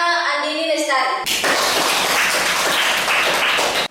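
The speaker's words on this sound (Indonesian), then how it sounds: "Mari kita memberikan tepuk tangan kepada Andini Lestari." A classroom of students clapping for a classmate, a dense, steady patter of many hands that starts abruptly after a teacher's voice and carries on loud and even to the end.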